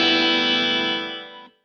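A single distorted chord from a Traveler Ultralight guitar through a Positive Grid Spark amp on its second preset sustains loud and near with a touch of chorus and reverb, fading slightly before stopping sharply after about a second and a half.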